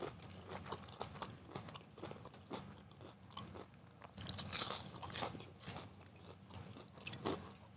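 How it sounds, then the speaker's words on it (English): Crispy twice-fried seasoned fries from a fusion restaurant are chewed close up in a steady run of small crunches and bites, with a louder burst midway and no voices. "because they're super crunchy and seasoned on the outside."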